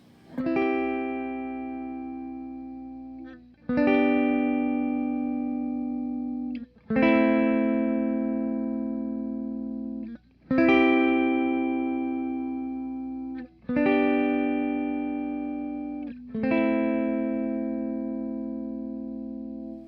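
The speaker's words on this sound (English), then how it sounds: "So I'm going to play the chords, and I'm just going to walk through them a couple of times" An electric guitar through effects strums triad chord changes, six ringing chords each left to decay for a few seconds, clear and alone with no talk.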